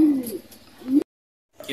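A racing pigeon just back home gives close, loud, throaty coos in two bursts, with a brief silence between them.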